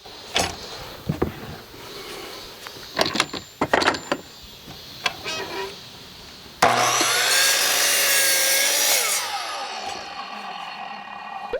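A Stanley SM18 sliding miter saw cuts into wood. A few wooden knocks and handling thumps come first, then the motor surges into a loud, whining cut for a couple of seconds before spinning down and fading.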